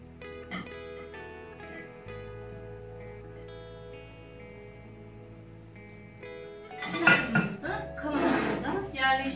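Washed, stemmed cherries tumbling into a glass jar, a burst of clinks and glassy clatter near the end over a steady musical background.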